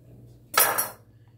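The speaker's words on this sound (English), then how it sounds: "This is a bread knife." One quick saw-and-press of a bread knife through a slice of low-carb keto bread made in the microwave, a short crisp scraping burst that fades within half a second, with no one speaking.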